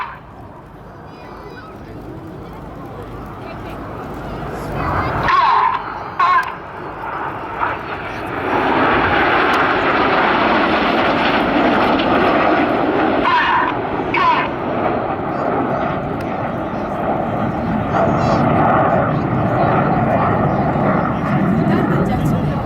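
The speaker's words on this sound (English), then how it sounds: "The inside pilots perform tight matched barrel rolls to the outside of the formation" Red Arrows jets roar past during rollback manoeuvres at the Farnborough Airshow, with loud, sustained engine noise that swells and stays strong throughout, and crowd voices mixed in underneath.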